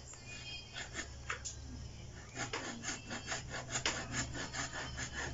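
A hand saw cuts through a branch of a variegated bougainvillea bonsai in steady rasping back-and-forth strokes, close and clear, speeding into a quicker rhythm partway through.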